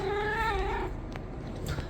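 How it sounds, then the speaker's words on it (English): A cat's drawn-out, wavering yowl rises and falls for almost a second, then gives way to quiet room noise with a couple of faint clicks. "Here's the cat."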